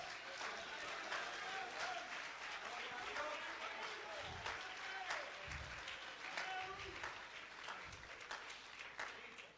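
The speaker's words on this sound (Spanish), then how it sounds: "dale un aplauso a Cristo que él se lo merece." A church congregation applauds during a Spanish-language worship service: sustained, fairly faint clapping from many people with crowd voices and shouts mixed in, continuing for several seconds.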